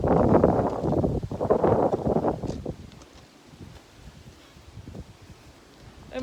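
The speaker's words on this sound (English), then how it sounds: "Wow, this wind is kicking." Strong wind gusts outdoors on a stormy day on a hill, roaring and buffeting nearby. It is loudest at the start and eases to a lower rush before picking up again.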